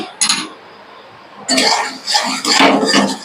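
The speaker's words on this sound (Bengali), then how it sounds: "ঢাকা খুলে দেখি," A lid is lifted off a cooking pot of moong dal with fish head, giving a short metallic clink followed by a noisy burst of clatter and sizzling steam.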